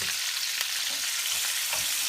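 Tomatoes, peppers and garlic fry in a pan with a dense, even hiss and a few soft stirring bumps, close and steady for a short moment.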